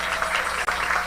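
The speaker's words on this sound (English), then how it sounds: "Can we have a big round of applause for all of them?" Brief burst of dense, steady applause from an audience at the first annual C-FACE culture night in Surrey, BC, filling the whole moment without a break.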